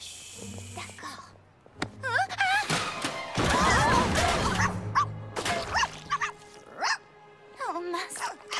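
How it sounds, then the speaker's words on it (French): A cartoon puppy knocks over a paint pot, giving a run of bright, yappy barks and whimpers around a sudden clattering crash, with other animated sounds close by. "Le bébé chien a renversé la peinture."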